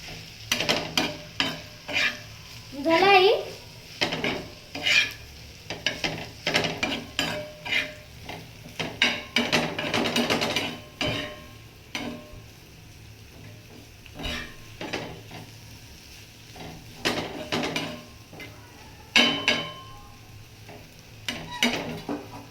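Spiny gourd curry is stirred and fried in a pan, with a steady low sizzle under repeated scraping and clinking of a spoon against the metal, close and alone without voices.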